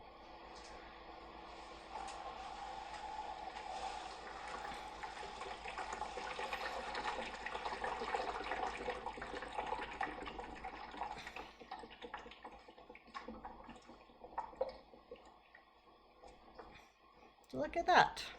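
Water sloshing and pouring between clear square containers in a Pythagorean theorem demonstration, a steady liquid wash that builds over several seconds, thins out, then ends in a few sharper splashes, with faint talk underneath.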